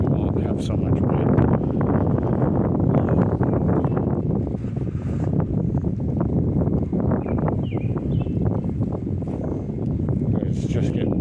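Steady wind buffets the microphone outdoors at dusk, a loud, constant rumbling roar that fills the whole stretch, with a voice speaking faintly underneath.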